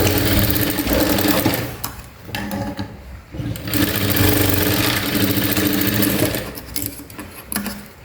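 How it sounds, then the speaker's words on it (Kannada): A sewing machine double-stitches blouse fabric in loud, close, rapid bursts, with brief pauses between runs. "ಅದು ನಾವು ಮೇನ್ ಫ್ಯಾಬ್ರಿಕ್ ಹೇಗೆ ಸ್ಟಿಚ್ ಮಾಡಿದ್ದೀವೋ ಅದೇ ಥರ ಇದಕ್ಕೂ ಡಬಲ್ ಸ್ಟಿಚ್ ಹಾಕ್ಕೋಬೇಕು"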